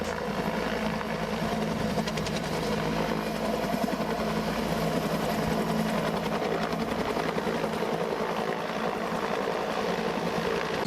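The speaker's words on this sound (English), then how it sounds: "This helicopter got stuck on one side while trying to take off." A helicopter stuck on one side while trying to take off, its rotor and engine making a steady, loud, continuous thrumming drone with rapid rhythmic blade chop throughout and no talking.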